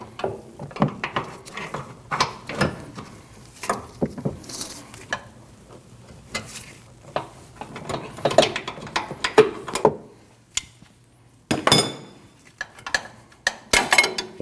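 Wrench work breaking loose a front control arm bolt on a Nissan NV2500, with a series of sharp metallic clicks, knocks and scraping bursts close by, irregular and intermittent, some louder clusters toward the end.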